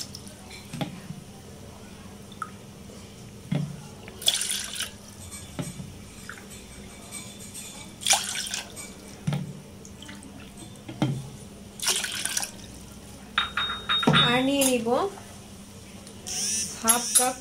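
Water poured into a pot for making laccha semai with powdered milk, heard as intermittent splashing and trickling bursts with drips between them in a quiet kitchen.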